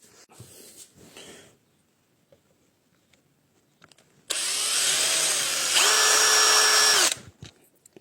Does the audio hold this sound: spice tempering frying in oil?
no